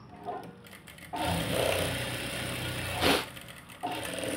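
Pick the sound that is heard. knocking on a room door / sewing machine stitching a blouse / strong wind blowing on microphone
sewing machine stitching a blouse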